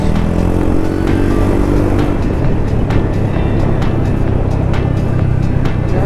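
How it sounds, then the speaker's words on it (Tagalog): A Yamaha XMAX 300 scooter at speed, its engine droning steadily and loudly up close, with wind rush over the top for the whole six seconds. "Takbo ng motor natin, medyo mabilis-bilis."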